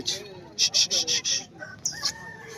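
An Aseel breeder rooster crows nearby at a rooster market, a series of loud bursts rising and falling, then a strained high final note amid quieter background noise.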